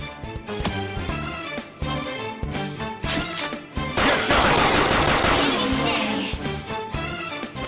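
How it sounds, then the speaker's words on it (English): Gunfire in the video game Persona 5 as a character shoots at a shadow: loud bursts of rapid shots in quick succession, building into a long continuous barrage over the second half. "Point it at a shadow and fire."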